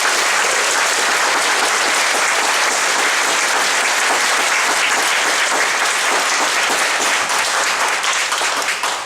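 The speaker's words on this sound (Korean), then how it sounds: "우리 초대 손님이시니까 감사의 박수 한번 부탁드리겠습니다" Loud, sustained audience applause for guest performers of a traditional music piece at a church gathering, dense and continuous clapping close by with no talk over it.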